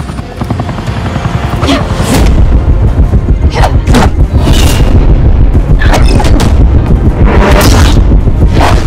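Loud, dense gunfire from the Batman: The Telltale Series video game, rapid repeated booming shots layered over a heavy low rumble, continuous and close with no speech.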